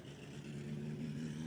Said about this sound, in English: as soon as we get all the rest of these cars by here